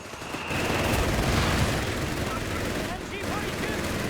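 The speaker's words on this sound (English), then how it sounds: "Got the machine gun there, blasting the mortar fire landing." Battlefield gunfire in the video game Company of Heroes 3, dense crackling bursts and booming impacts from machine guns and mortars, continuous and loud, with a commentator talking over it.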